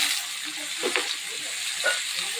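Potatoes and carrots frying with panch phoron in a pan, a steady close broadband sizzle with a few brief spits and crackles, no talking.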